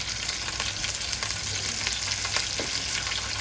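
Bell peppers (capsicum) roasting in a hot pan, turned to char on all sides, give a steady close sizzle and crackle with a few soft clicks as they are shifted.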